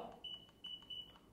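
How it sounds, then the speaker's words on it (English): Three short, clear electronic beeps come from the menu button of a NOSFET AERO electric unicycle as it is pressed, evenly spaced and close-up over a quiet background. "You can hit this, hear the beep again"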